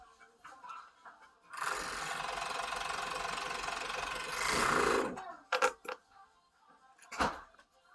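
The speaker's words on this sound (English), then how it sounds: "So what you want to do is just serge up the side where your edges are together." Serger stitching up the side seam of a knit cocoon cardigan, a steady close mechanical whir running for about three and a half seconds, followed by a few brief handling clicks and knocks.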